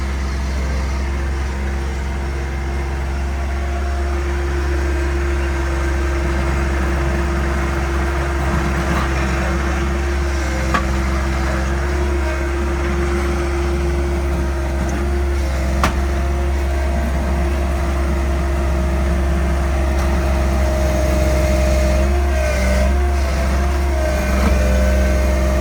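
A John Deere 1025R tractor fitted with a 4 psi turbo kit runs in high range, its engine a steady, loud, low hum that holds without bogging for the whole stretch.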